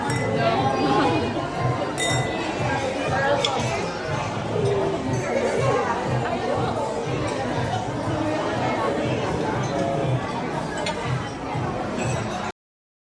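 Glasses clink together during an 18th birthday toast, several bright chinks scattered through lively crowd chatter and overlapping voices at a party.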